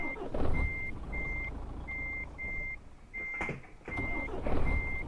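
Repeated evenly spaced reversing beeps from a MAN truck in Euro Truck Simulator 2, steady and fairly loud over a low engine rumble, with a few brief louder knocks partway through.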